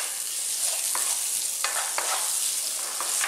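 Chinese sausage slices frying and being stirred in a hot pan, a steady close hiss of sizzling fat with scattered scrapes and clicks of the utensil, no talk.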